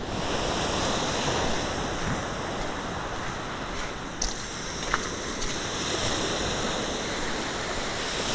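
Ocean waves wash on the shore as the tide pulls out, a continuous broad rush of surf mixed with wind noise, steady throughout, with a couple of faint clicks.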